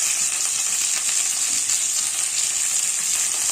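Onions, chillies and curry leaves frying in hot oil with mustard seeds and cumin, a steady close bright sizzle with faint crackles and no voices.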